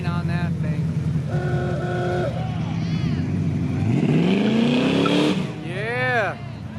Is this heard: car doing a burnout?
yes